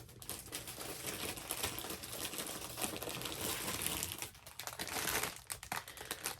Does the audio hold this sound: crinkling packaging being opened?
yes